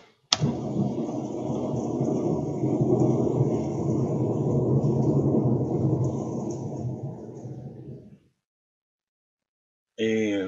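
A recorded rain sound plays back in Adobe Audition as a steady, dense hiss with a low rumbling body for about eight seconds, then cuts off abruptly into silence before a brief burst returns at the end.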